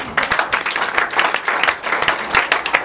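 An Easter service congregation in church claps in a dense, uneven wave of applause that stays steady and close throughout, with a faint murmur of voices underneath.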